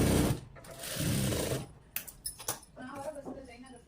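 A sewing machine stitches a seam along fabric, running in a steady mechanical burst at first, then pausing for quieter handling clicks and short bursts, while a voice talks alongside.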